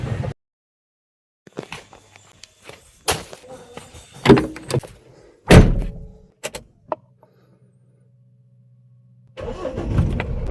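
Toyota Hilux pickup: several door thunks and clunks, then the engine cranks and fires into a steady low idle that runs on alone before another burst of door and handling noise at the end.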